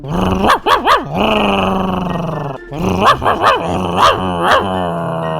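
A dog in the video game Minecraft growls and barks in loud, close bursts, a sustained snarling growl broken by sharp barks in two clusters.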